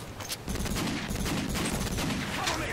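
Rapid, dense pistol gunfire from a Call of Duty match, loud and close, in a near-continuous burst of overlapping shots after a brief quieter opening, with faint voices underneath.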